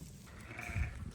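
Spanish goats in a pen give a loud, close, wavering bleat about a second long over low background noise.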